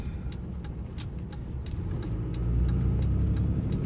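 Inside the cab of a 2008 Dodge Dually Cummins truck on Dick Cepek Extreme Country 285/70-17 tires, a steady engine and road drone cruises along the highway while a regular clicking tick repeats throughout.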